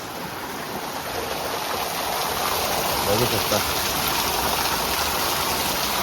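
Heavy monsoon rain pours outside in a dense, continuous hiss that stays loud and even, with a short spoken remark heard briefly over the downpour.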